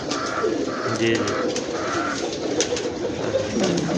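Pigeons of a teddy and double breed coo close by in soft repeated throaty phrases, with someone briefly speaking over them.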